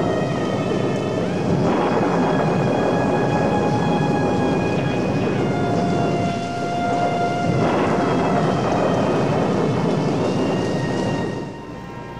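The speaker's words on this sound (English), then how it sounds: "the rains here are torrential and often" Torrential tropical rain on Devil's Island, a loud, dense roar of downpour with deep rumbling thunder rolling underneath, sustained throughout before easing slightly at the very end.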